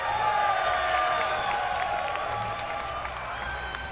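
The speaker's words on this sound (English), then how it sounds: "Marcus, this crowd is kick-ass." A large crowd cheers and applauds at a StarCraft 2 event, Red Bull Battle Grounds, loud sustained clapping and whooping with an announcer's voice ringing over it, slowly fading slightly.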